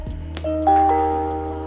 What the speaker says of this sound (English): once you turn on your vehicle and this receives power, it'll do a little intro chime.